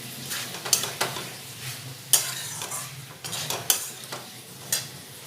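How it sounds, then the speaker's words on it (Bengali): Pumpkin and potato stir-fried with Kashmiri red chili powder, a soft continuous sizzle punctuated by about five crisp spatula scrapes against the pan. "দিয়ে এই কুমড়ো আলুটা খুব ভালোভাবে কষিয়ে নেব।"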